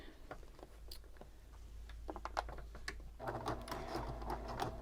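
A home sewing machine stitches flannel-backed vinyl folded for a braided boho bag. Scattered taps and handling noises lead into a steady, close motor whir with a rapid needle rhythm that continues to the end.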